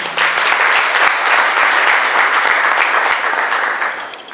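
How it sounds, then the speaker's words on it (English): Loud, dense audience applause fills the room at full strength, with a few sharper claps standing out near the start before it begins to taper off at the end. "Can you give them a round of applause?"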